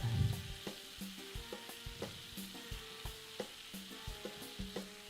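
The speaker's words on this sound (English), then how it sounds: "pretty sure he said about frying the bread" Bread frying in a pan in the Taskmaster VR video game gives a steady soft sizzle broken by regular clicking, scraping stirs roughly twice a second, close and fairly quiet, with nobody talking.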